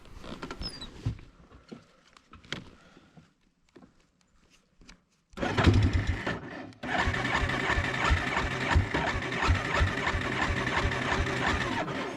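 A Yamaha Warrior 350 ATV engine cranks with rapid starter churning, first in faint short bursts separated by pauses, then a loud sustained grinding crank that keeps going without catching.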